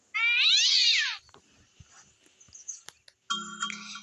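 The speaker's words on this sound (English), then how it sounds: "She's not a stray cat." A house cat gives one loud, drawn-out meow up close, followed by quiet shuffling and small knocks, then a two-tone doorbell-like chime near the end.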